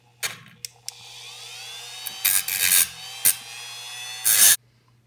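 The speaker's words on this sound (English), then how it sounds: "I use this cutting wheel on this Dremel to remove the protruding sides of the screw" A Dremel cutting wheel grinds down the protruding sides of a screw on a muzzleloader, giving several short rasping bursts close up, separated by brief pauses, with a steady motor hum underneath.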